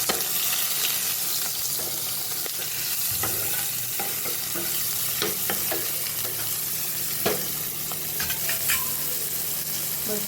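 Onions and tomatoes hit hot oil tempered with mustard seeds and asafoetida for sambar, giving a steady sizzle with irregular clinks and scrapes of a spoon stirring the pan; no speech.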